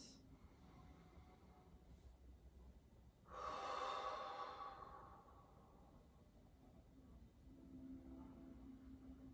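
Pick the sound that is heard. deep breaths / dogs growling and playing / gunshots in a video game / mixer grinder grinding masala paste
deep breaths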